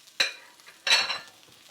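Green onions fry in a pan during a stir fry, with two short bursts of hissing sizzle as they are stirred, separated by a quieter pause.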